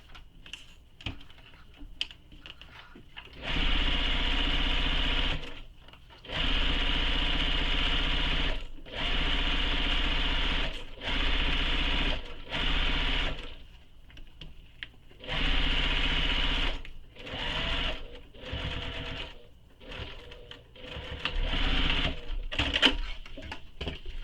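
Sewing machine running a basting stitch on a backpack, a series of roughly six bursts of fast, buzzing stitching with short stops and handling noises between them, heard close with no talk.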